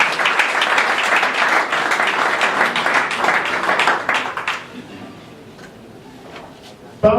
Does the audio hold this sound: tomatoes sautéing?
no